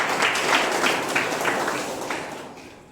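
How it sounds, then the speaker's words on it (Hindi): A short burst of group clapping, fairly close and lively, fading slightly toward the end. "ताली।"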